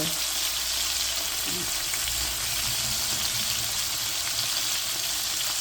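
Sausages fry in a pan with a dense, steady hiss and crackle of hot oil, loud and continuous throughout, with no talking.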